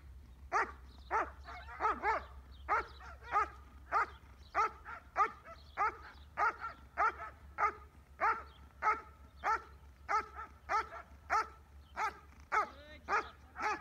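A Las Vegas Metro police dog barks in a steady, evenly spaced rhythm, around twenty sharp barks at moderate distance over a low background hum.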